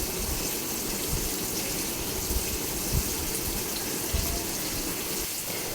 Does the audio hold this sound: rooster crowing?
no